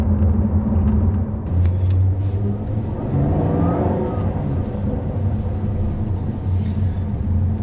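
A Jaguar XE SV Project 8 drives along a road, its engine rumbling loudly and revving under acceleration, the roar rising and falling steadily throughout.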